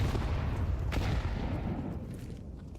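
Grenade explosion in Counter-Strike, a broad low rumbling boom that fills the clip loudly from the start and slowly fades, with a sharper burst near one second.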